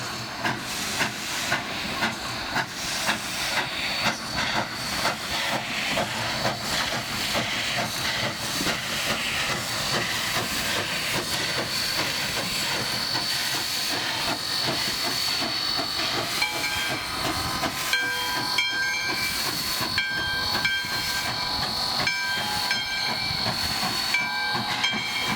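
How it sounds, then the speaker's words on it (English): Steam locomotive on the historic Nevada Northern railroad chuffing steadily as steam is pushed and released from its cylinders, with a continuous loud hiss of steam and a rapid rhythmic exhaust beat throughout, close by and without talk. "gives us that lovely chuff sound that most of us associate with steam engines"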